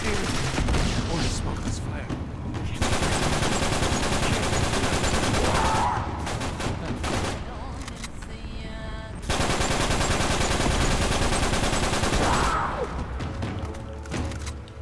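Uncharted 3 video game combat, sustained bursts of rapid automatic gunfire in long dense stretches with brief pauses between, loud and close, with a player talking over parts of it.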